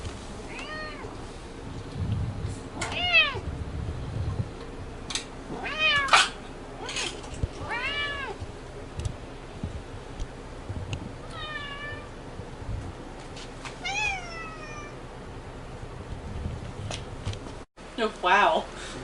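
Excited cats meow repeatedly at an indoor Kittylympics banquet, with several rising and falling calls close by over a low rustling, shuffling background and some talk.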